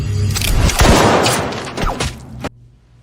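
Gunfire rings out in a tense dramatic scene, with loud, booming shots rolling into one another for about two and a half seconds before cutting off abruptly to near silence.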